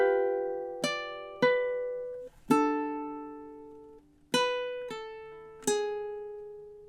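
A ukulele picks out measures of a tune in a slow, deliberate run of six bright strums, each ringing and fading before the next, with no voices.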